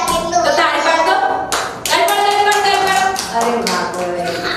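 Hands clapping in quick repeated bursts, close and loud, with voices speaking underneath.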